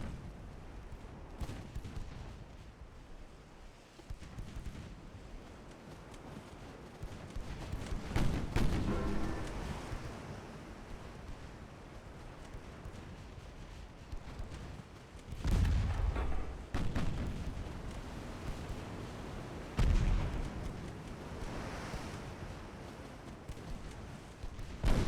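Naval main battery guns boom repeatedly at enemy cruisers in the warship game Ultimate Admiral Dreadnoughts, with heavy low rumbling blasts every few seconds over a continuous roaring battle background.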